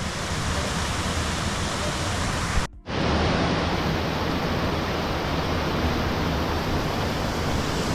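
Kanuru and Sathodi waterfalls in Uttara Kannada pour with a dense, steady roar of rushing water that fills the whole scene, broken by one brief dropout near the middle.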